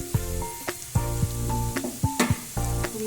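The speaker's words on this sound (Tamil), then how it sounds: "இதில் முட்டை உடச்சி ஊற்றிக்கலாம்" Egg hits a hot pan for fried rice and sizzles steadily, with repeated rhythmic clinks of a utensil stirring and scraping against the pan, close and fairly loud.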